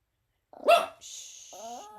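A dog gives one sharp close bark, followed by a brief high whine or squeal, with a short bit of vocal sound at the end.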